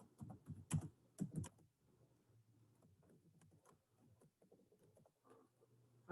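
Typing on a computer keyboard up close: a quick cluster of louder key clicks at the start, then lighter, irregular tapping continuing softly with brief pauses, no voices.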